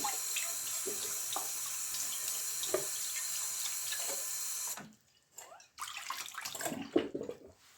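Cold water from a kitchen tap runs steadily over cooked rice to cool it, a continuous close hiss that cuts off briefly, then resumes with uneven splashing and clinks.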